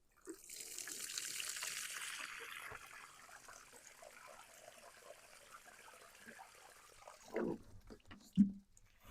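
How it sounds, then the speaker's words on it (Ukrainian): Water is poured from above into a freshly dug planting hole in garden soil, a soft continuous splashing stream for a couple of seconds that fades to quiet trickling, followed by a few faint knocks and handling sounds. "після того, як ми викопали нашу яму, проливаємо водою"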